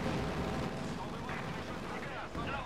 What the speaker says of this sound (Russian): Одна пушка, что ли? Ну, пушка, да.